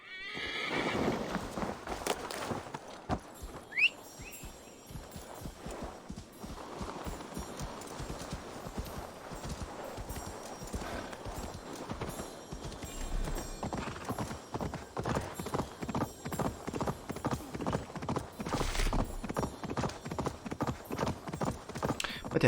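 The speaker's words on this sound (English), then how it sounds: "I can actually call a horse" In the Assassin's Creed Valhalla video game, a summoned horse whinnies and then gallops closer, its rhythmic clip-clop hoofbeats growing louder and steadier over time, while someone talks over the sound.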